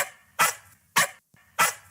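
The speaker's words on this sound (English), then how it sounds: "He's a polite little doggy." A small dog gives three short, sharp barks spaced about half a second apart, close and loud in an otherwise quiet room.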